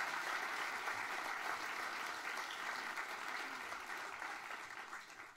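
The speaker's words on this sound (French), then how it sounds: "Applaudissements pour Alexandre Démétriades, municipal en charge des sports à la ville de Nyon." Audience applause at a regional sports awards evening welcomes a municipal official onto the stage, a dense, even wash of clapping that tapers slightly toward the end.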